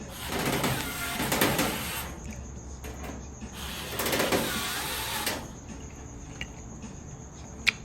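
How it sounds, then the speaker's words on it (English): Power screwdriver driving screws into the bracket of a Whirlpool Duet gas dryer, two whirring bursts of several seconds each with a short pause between, close and fairly loud, followed by faint clicks. "I'm starting the screws off here"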